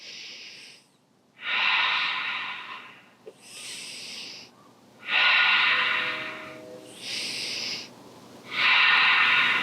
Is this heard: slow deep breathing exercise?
yes